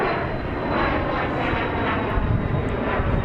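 A Southwest Airlines jet airliner at Dallas Love Field, heard as a loud, steady, broadband engine roar that stays close and continuous throughout.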